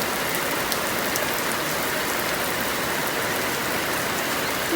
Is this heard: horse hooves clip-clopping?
no